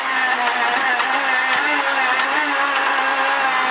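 Renault Clio R3 rally car on a stage at the 2015 Rallye de Lorraine, a steady loud in-car engine drone with engine pitch shifting as it slows under braking, faint short knocks over the constant roar.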